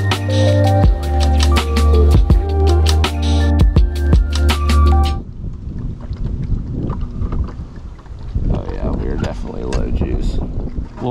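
Strong wind buffeting the microphone on a fishing boat running at full speed into a headwind on a bass-fishing trip, a loud, steady roar with heavy low rumble and engine noise throughout.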